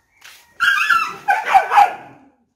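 Several dogs in a stray pack, some orphaned puppies among them, bark and whimper in a short close burst of overlapping yips and whines that rises twice before fading.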